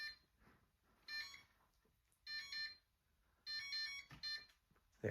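A Homestead Chippendale 56-inch ceiling fan beeps through its auto test, giving several short bursts of high electronic tones with quiet gaps between them, fairly faint against a low room hum.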